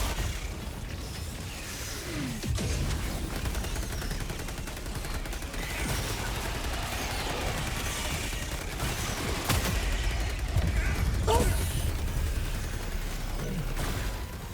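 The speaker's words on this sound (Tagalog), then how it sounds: "Launching orbital strike. Firing gas strike." An orbital strike and a gas strike hit in Helldivers 2 with dense, continuous gunfire and rumbling explosions. Heavy booms punctuate the steady wall of battle noise.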